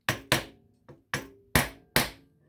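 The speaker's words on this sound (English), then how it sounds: "take my hammer here, and then I just tap that in there" A hammer taps a brass bushing into a clock plate through a block of wood, giving six sharp, close knocks at uneven intervals, each ringing briefly before fading, with no talk.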